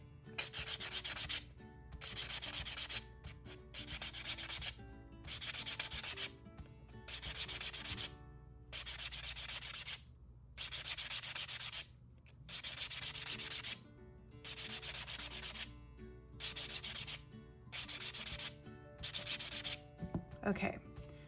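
Hand sanding the edge of wooden earrings, a close, scratchy rubbing in regular strokes about a second long, separated by short pauses, with no talking.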